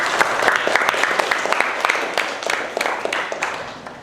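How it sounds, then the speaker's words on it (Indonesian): Applause from a classroom of students clapping for their group, a dense, steady patter of many hands at close range that fades slightly toward the end, with faint voices mixed in. "Untuk itu kita berikan aplaus, tepuk tangan untuk kita semua."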